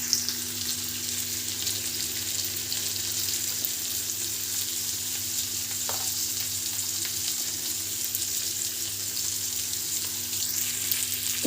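Onions with salt sizzle steadily in a hot pan, a continuous close-up frying hiss with faint occasional stirring scrapes and no voices.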